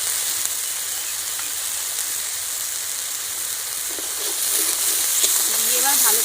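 Onion paste fries in a pan with salt while cooking a Bengali doi katla fish curry, giving a soft, steady sizzle close by. Someone speaks quietly over it toward the end.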